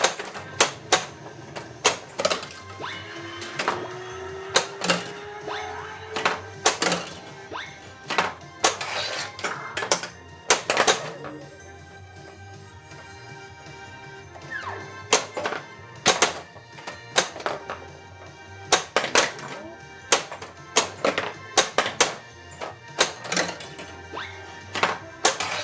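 A Looney Tunes pinball machine in play, with sharp flipper clacks and ball impacts ringing out in irregular bursts, dense clusters of hits separated by brief lulls over a steady mechanical background, close and fairly loud.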